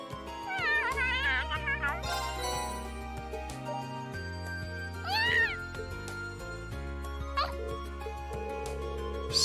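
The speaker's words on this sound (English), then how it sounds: "Oh. Cat." In the video game Trails of Cold Steel, a cat meows several times over background game music, with a few short, pitch-bending mews spread across the stretch.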